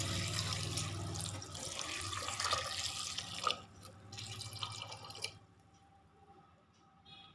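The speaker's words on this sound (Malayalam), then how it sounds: "പരിപ്പ് വേവാൻ ആവശ്യമുള്ള വെള്ളം ചേർത്ത് കൊടുക്കാം." Water pours into a cooking pot of lentils seasoned with turmeric for dal curry, a close, splashing gush for about three and a half seconds, then fading into quieter trickles and drips.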